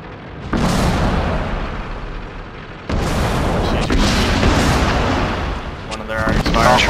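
Artillery fire in a World of Tanks clan wars battle lands as two heavy booms a couple of seconds apart, each followed by a long rumbling roar. Faint voices and sharper shots come through near the end.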